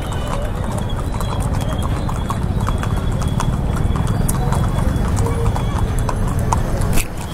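Horses clip-clop steadily and neigh at the Ghode Jatra horse festival at Tudikhel in Kathmandu. Crowd noise and voices continue throughout.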